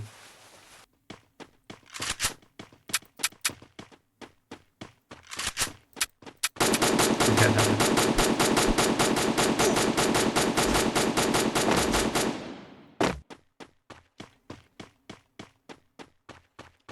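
Gunfire in the Free Fire video game: scattered single shots, then a long, loud, continuous automatic burst lasting several seconds, followed by more sporadic, evenly spaced shots.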